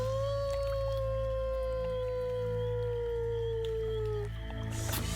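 A single long, steady human howl imitating a red wolf, sustained and slowly dropping in pitch over a low rumble, ending abruptly.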